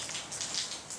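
Rain falling and dripping through a leak overhead on a windy night outdoors, a soft continuous patter of drops on surfaces, steady and close, with no voices.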